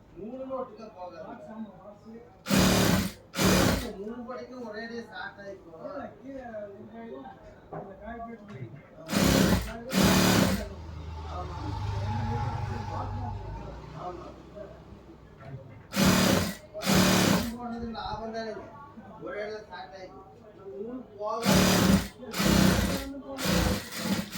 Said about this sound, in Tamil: இங்கேருந்து இப்படி ஸ்டிச் பண்ணுங்கள்